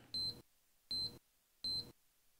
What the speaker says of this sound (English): During this time, you will hear a constant beeping.